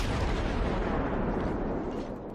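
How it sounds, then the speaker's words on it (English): Cruiser guns fire armor-piercing shells at a Dresden in World of Warships, a loud, continuous booming roar that tapers slightly at the very end. "I'm firing piercing at this Dresden"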